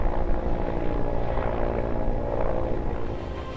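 Medical assistance helicopter flying over the Abu Dhabi Desert Challenge rally, a steady mid-distance rotor and engine rumble without talk.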